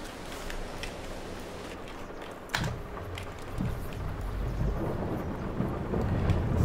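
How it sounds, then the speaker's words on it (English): In-game rain and thunder from Farming Simulator 22, a steady hiss of rain with a sharp thunder crack partway through followed by low rumbling, mixed with quick keyboard typing. "Oh, come on, rain, go away, please."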